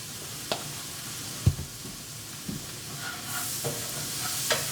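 Garlic and red pepper sauté in a pan, a quiet, steady sizzle with a few soft clinks of a utensil stirring, heard close with no voices.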